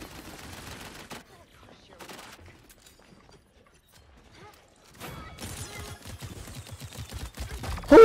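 Bursts of video game gunfire crackle in two short clusters, then a louder, denser rattling volley builds toward the end, with quiet gaps in between.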